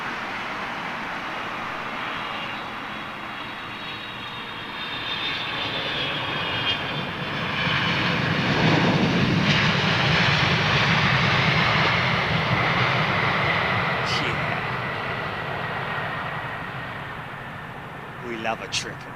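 A Qatar Airways Boeing 777 roars past at Heathrow Airport, its jet engines building from a broad rumble to a loud peak and then easing off, with people talking over the noise.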